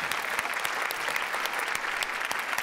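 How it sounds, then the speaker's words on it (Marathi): A studio audience on a Marathi comedy show applauds steadily, a dense, even wash of many hands clapping at moderate distance with no speech on top. "जोरदार टाळ्या सुशांतसाठी"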